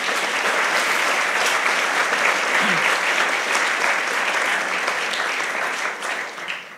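An audience at a book premiere and debate on inflation claps steadily and loudly, a dense sustained applause that holds for several seconds before thinning slightly at the very end.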